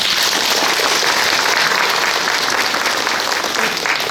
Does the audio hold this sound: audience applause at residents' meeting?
yes